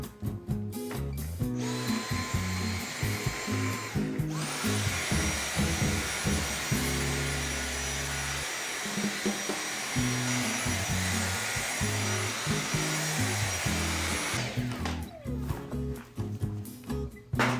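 A Dyson V6 cordless vacuum runs on full max over a dirty rug, a loud sustained high whir broken by bumps and rattles as the head is pushed back and forth, starting and stopping near the ends.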